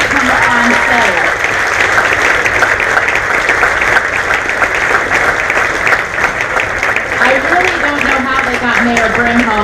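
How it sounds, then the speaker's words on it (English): An audience at a Miss Sweet 16 crowning pageant applauds loudly and steadily, dense clapping filling the whole span while a voice carries over it. "If everybody'd like to give them a round of applause"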